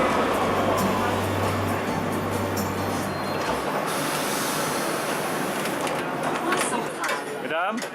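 Rumbling ride aboard a Paris tram, a loud steady rolling hum with a low drone that fades midway, leaving a busy cabin din with brief squeaks near the end.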